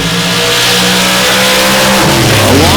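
A big block Ford race car engine revs hard at a high power stock class race, a loud, close roar that holds steady and then climbs in pitch near the end.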